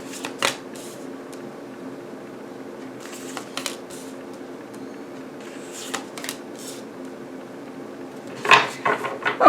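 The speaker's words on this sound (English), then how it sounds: "I'm going to give it another shuffle just because I feel like it" Tarot cards are shuffled in short, papery riffling bursts with soft pauses between, close and fairly quiet, and no one speaks.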